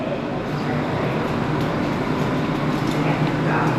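A New York City subway train arriving, a dense steady rumble and roar of the cars filling the platform, loud and continuous with faint higher squeals above it.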